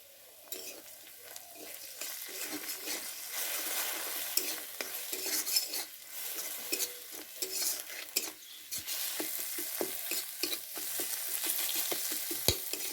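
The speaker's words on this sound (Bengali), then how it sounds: "এইভাবে মশলাগুলো আর ডিমটা ভালো করে ভেজে নিয়ে" An egg with spices, chopped green chilli and a little salt sizzling in a pan for homemade atta chowmein, crackling frying under repeated scraping stirs of a spatula against the metal, close and fairly quiet.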